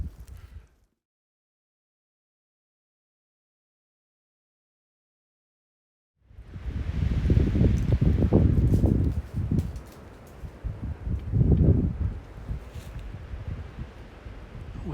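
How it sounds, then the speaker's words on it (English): Gusts of wind whip through an evergreen on a high-country mountain trail, a loud, broad rustling roar that surges and fades in waves after a stretch of near silence. "Wind is whipping through that evergreen"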